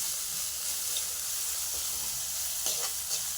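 Chili paste made with neem leaves and salt sizzles steadily in a hot pan for an aloo paratha filling, giving a loud continuous frying hiss with occasional stirring scrapes and no voices.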